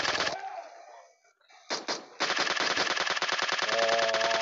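Minigun fire in PUBG Mobile zombie mode: a fast burst, then a pause, then a short stutter, and finally sustained, loud, rapid-fire chatter.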